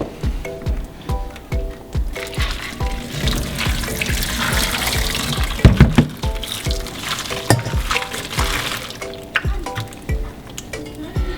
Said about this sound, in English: So we'll pour the boiling water and remove them from their shells now.